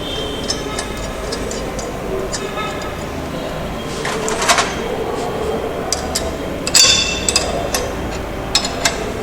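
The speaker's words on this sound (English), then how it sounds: "Tighten the nuts and bolts properly in place such that the mold is held" Nuts and bolts being tightened on a permeability test mold against its base plate give sparse, irregular metallic clicks and clinks, close by, over a low steady room background.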